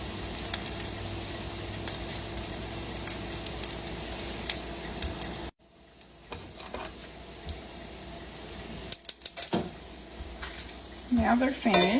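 Leftover potato patties frying in a pan, a steady close sizzle that drops suddenly about halfway through, followed by quieter crackle, a few sharp utensil clicks and a brief scrape near the end.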